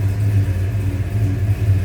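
A 1971 Pontiac GTO's engine idles close by with an open hood, a loud, deep rumbling burble with a steady pulsing lope and no voices over it.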